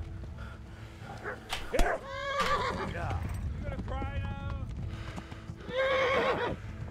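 A horse whinnies several times with clopping hooves and a dog barking briefly in the video game Kingdom Come: Deliverance, all under a person talking excitedly.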